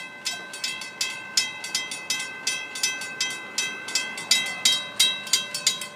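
Rhythmic clickety-clack of FEC train wheels rolling over rail joints, steady evenly spaced clicks at moderate volume, no voices.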